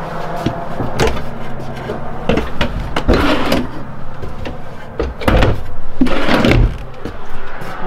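Drawers sliding open and shut in the kitchen of a Montana fifth-wheel trailer with a propane stove, a series of close, clattering knocks and rolling slides spread through the stretch with some low background noise.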